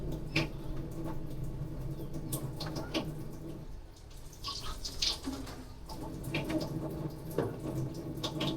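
Tap water runs steadily into a kitchen sink during dishwashing, with clinks and splashes from washing, fairly close and continuous for the whole stretch.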